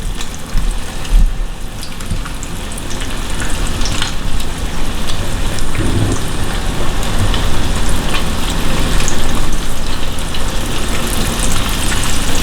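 Fish sizzles in hot oil while frying until crispy for Chinese-style squirrel fish, a loud, continuous hiss and crackle with no pauses.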